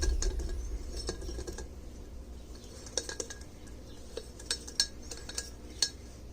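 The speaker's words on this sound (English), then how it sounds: "take a little whisk, mix it up" A small whisk clinks against a bowl mixing blackened seasoning spices, including cayenne, with quick irregular metallic taps and scrapes, close and fairly quiet, with no talking.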